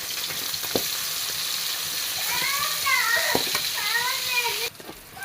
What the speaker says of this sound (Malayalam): ഒരു ചീനച്ചട്ടി അടുപ്പത്ത് വെച്ചു. ഇനി നമുക്കിത് വറുത്ത് കോരിയെടുക്കാം.